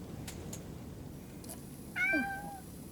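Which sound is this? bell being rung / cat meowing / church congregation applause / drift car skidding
cat meowing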